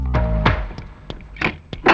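Several firm knocks on a door in a Tamil comedy scene, about six dull thuds spaced unevenly over two seconds, close and loud with no voices.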